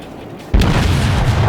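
A battleship's main guns fire in World of Warships, the Imperial Japanese Navy Kawachi letting off a single loud, deep boom that rolls on into a sustained low rumble.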